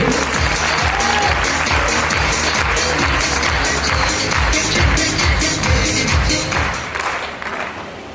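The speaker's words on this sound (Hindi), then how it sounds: "टेक्निकल अचीवर माइक्रोफोन दे रहा हूं, आपकी जोरदार तालियों के बीच।" Loud, dense applause from a large seminar audience fills the whole stretch, steady and close with a faint voice or two beneath, tapering slightly at the end.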